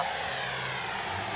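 Steady whine of a Freewing F-22 RC jet flying past with flaps just raised, even and continuous at moderate level, with no talking.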